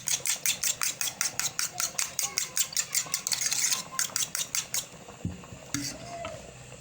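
Eggs beaten briskly with a utensil in a bowl for chicken vegetable soup, a fast, steady run of close metallic clicks that stops partway, followed by light clatter and a brief voice.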